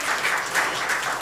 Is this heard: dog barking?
no